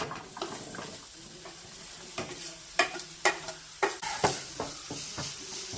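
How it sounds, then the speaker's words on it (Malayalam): Onions sautéing in a pan for biryani, a soft sizzle under a run of sharp stirring knocks and scrapes that grow busier toward the end, close by with no voices. "നമുക്ക് ഉള്ളി വാട്ടിയെടുക്കാം കേട്ടോ"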